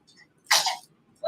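A single loud, sharp sneeze bursts out in a quiet room during a tabletop wargame session, with faint background murmur before it and a brief voice starting just after.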